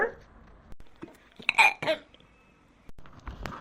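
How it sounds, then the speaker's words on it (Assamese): A few short, abrupt belches after a chicken meal, clustered together with brief pauses between them, along with some nearby talk and other household noise. "তোমালোকে যে মাকে জীয়েকে ইমান উগাৰ মাৰি আছা"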